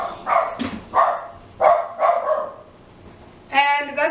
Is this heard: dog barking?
yes